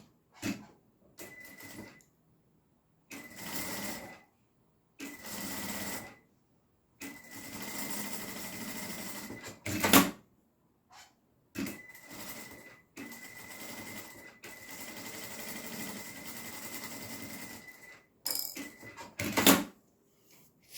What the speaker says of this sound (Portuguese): Agora, eu vou fazer uma costurinha em cada lateral.